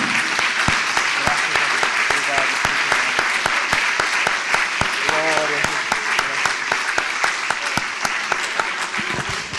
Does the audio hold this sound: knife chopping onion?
no